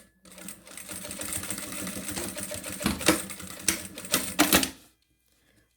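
Sewing machine stitching a seam along elastic on a fabric pencil case, running steadily near and loud with bursts of faster stitching before stopping abruptly.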